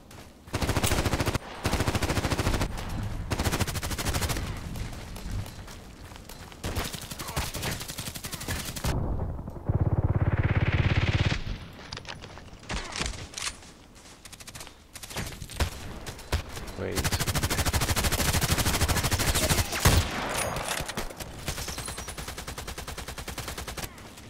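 Rapid automatic gunfire from a gun in the online shooter Contract Wars, dense loud bursts repeating through the clip with a brief lull of rushing noise near the middle.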